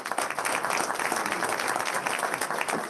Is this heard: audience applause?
yes